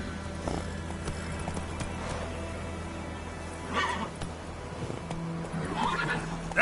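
Roach, a horse in The Witcher 3, lets out a couple of whinnies at moderate distance over a low, steady ambient background, with faint hoof sounds around them.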